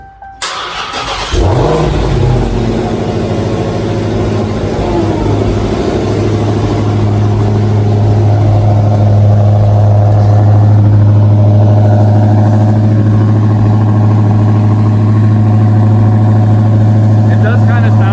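A 1025hp Dodge Demon 170 cranks and fires up with a brief starter whir, then settles into a loud, close, deep rumbling idle that swells as the engine is revved and held, with a voice faintly underneath.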